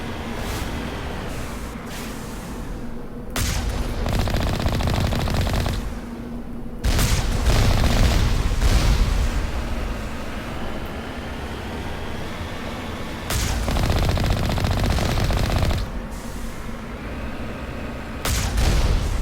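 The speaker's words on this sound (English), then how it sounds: "They've already started shooting at me." Gunfire and booming weapon blasts in the sci-fi shooter Mass Effect, dense bursts of loud shots in several long stretches separated by brief lulls, with a constant low rumble underneath.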